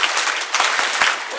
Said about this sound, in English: Give them 6 claps and a yes.